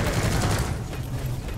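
Automatic sentry gun in Deep Rock Galactic opening up in a dense, continuous burst of rapid fire, loud and steady for the whole stretch with a cluttered game mix underneath.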